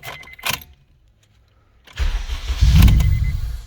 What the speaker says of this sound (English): when starting the vehicle, we're gonna do like a quick start and then turn it off right away